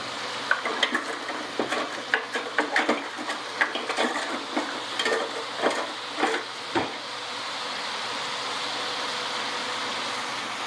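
Meat cooking in a pan while the moisture cooks off, with steady sizzling and repeated stirring and scraping clatter of a utensil against the pan. The strokes come in quick bursts, then the pan settles into an even frying hiss.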